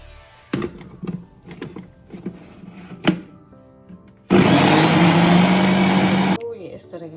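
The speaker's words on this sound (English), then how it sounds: "So I need to grind it all together and make a paste" A blender grinds milk and pancake ingredients into a thick batter paste, roaring loudly and steadily for about two seconds after a stretch of clattering, knocking kitchen handling sounds.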